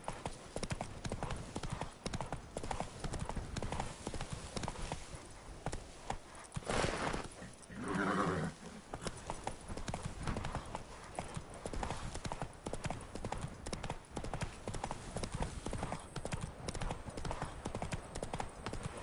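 Horse galloping in The Witcher, a fast, continuous clip-clop of hooves at close range, steady rhythm with a brief louder rustling burst near the middle.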